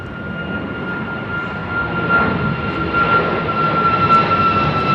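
A Tarom airliner departing London Heathrow runway 09R: jet engines roar steadily and swell slightly louder toward the end, alone with no talking.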